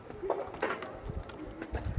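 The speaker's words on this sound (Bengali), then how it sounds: "একদমই ডাকে, একদম ফুল অ্যাক্টিভ পায়রা" A male pigeon cooing close by in a loft, a couple of soft, low throaty coos over faint background rustle.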